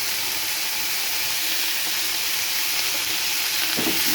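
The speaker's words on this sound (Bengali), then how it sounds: "চিচিঙ্গা পটল ভাজা হচ্ছে" Snake gourd and pointed gourd frying in a pan with a little oil and raw turmeric, giving a steady, close hiss and sizzle that runs without a break, with no voices.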